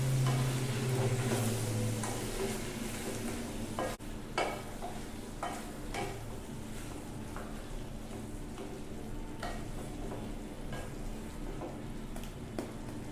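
Chicken cooks in a pan with turmeric, crushed red chilli, coriander powder, crushed black pepper and garam masala, producing a soft, continuous sizzle with scattered scrapes and knocks as it is stirred.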